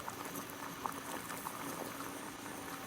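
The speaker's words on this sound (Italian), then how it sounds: "Boil water in kettle." Water boiling in a kettle on a gas burner in the video game Sherlock Holmes The Devil's Daughter, a steady close bubbling hiss that carries evenly throughout with no talking.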